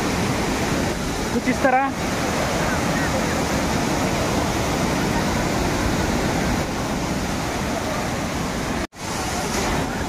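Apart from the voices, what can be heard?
Aapkhol waterfall, water falling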